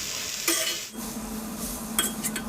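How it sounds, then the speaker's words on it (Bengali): Quiet sizzling of kharkol leaves frying in a pan with a few sharp scrapes and clinks of a utensil stirring, sporadic over a low steady hiss. "এবার নেড়ে চেড়ে ভাজা ভাজা করে নিব"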